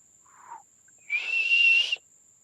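A small green bush warbler in Palau sings, a brief soft note followed by a clear, sustained whistled phrase about a second long, close and distinct over a constant faint insect drone.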